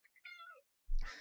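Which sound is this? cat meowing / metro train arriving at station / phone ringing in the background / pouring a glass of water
cat meowing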